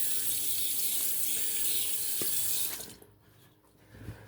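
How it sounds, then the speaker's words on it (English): A bathroom tap runs steadily into a sink while a face is rinsed during a wet shave with a Gillette Parat razor and Floid Vigoroso soap, a close, continuous hiss that stops abruptly, leaving a few faint splashes and drips. "As I'm rinsing off, as I'm re-wetting the face"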